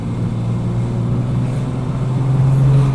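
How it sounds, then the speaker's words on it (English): A Ford Falcon with a BTR automatic idles with a slight misfire, a steady low engine drone that grows a little louder near the end, heard alone without talk. "this thing's got a little bit of a slight misfire at the moment"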